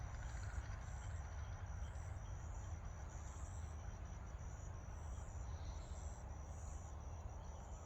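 Constant low traffic rumble from a nearby road, with a faint repeating high beep of a reversing vehicle in the distance.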